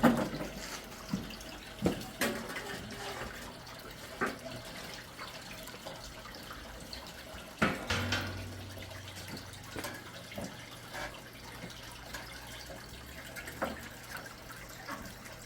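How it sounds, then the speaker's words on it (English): Ultrasonic cleaner washing KTM 300 XCW dirt bike cylinder parts in water, a steady low hum with watery sloshing and occasional clinks and knocks of parts, fairly quiet. "It's the ultrasonic machine."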